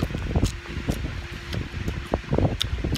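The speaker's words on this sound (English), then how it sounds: "Apologize if it's windy today" Wind gusts across a backyard garden, buffeting the microphone with a rough, rumbling roar and occasional rustling, close and continuous throughout.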